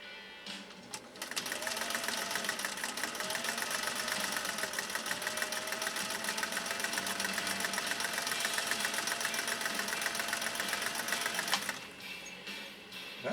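A Singer 401A sewing machine runs steadily for about ten seconds, stitching a combination pattern with a fast, even mechanical chatter from the swinging needle. It starts and stops abruptly, and there is no talk.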